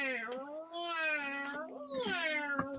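A cat gives long, drawn-out meows, two or three plaintive calls in a row, close and fairly loud.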